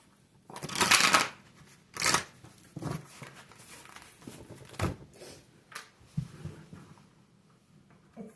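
Tarot cards being shuffled and dealt, a loud riffle of the deck followed by softer slaps, slides and papery handling sounds at close range.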